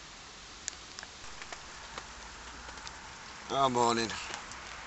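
Steady heavy rain hisses and patters on a bushcraft camp with a hammock and teepee, a continuous wash of sound with scattered drip taps, and a man's brief spoken greeting near the end.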